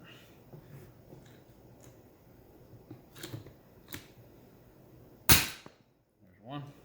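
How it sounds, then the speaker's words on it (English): A rivet gun sets a rivet on a vent window seal of a Square Body C10 Chevy pickup, giving one sharp, loud snap after a stretch of quiet handling clicks and rustles. "Take your rivet gun, push it down."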